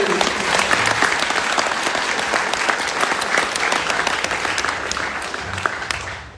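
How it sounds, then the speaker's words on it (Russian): A seminar audience in Almaty bursts into sustained applause, many hands clapping in a thick, even roar that holds strong for several seconds before tapering slightly at the end. "Give an applause for those guys."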